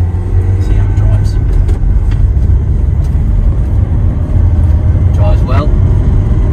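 A 2018 Vauxhall Vivaro 1.6 CDTI long-wheelbase Sportive 120 van driving on the road, a loud steady low rumble of engine and road noise from inside the cab, with intermittent speech over it.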